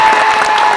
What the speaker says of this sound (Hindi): बहुत अच्छा शेर था, पुरजोर तालियां हो जानी चाहिए दोस्तों